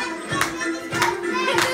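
Rhythmic hand clapping in time with a live Greek song, three clear claps spaced about every half second over sustained music.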